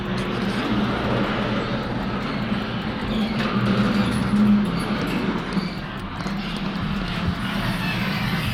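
A Chevrolet Camaro SS pulls out of a garage, its engine a steady, loud, broad rumble that fills the whole stretch without pause.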